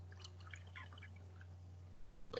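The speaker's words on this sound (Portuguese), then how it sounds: "eu vou tomar um golinho de água porque eu tô falando pra caramba" Drinking water during a lecture, with a faint close sip and soft liquid dribbles toward the end, against quiet room tone.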